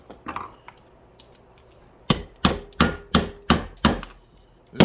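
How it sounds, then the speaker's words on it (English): Rubber mallet striking a stuck part on a Homelite XL 922 chainsaw during teardown: a few light taps, then a steady run of six sharp, evenly spaced blows close up, without talk. "Rubber mallet."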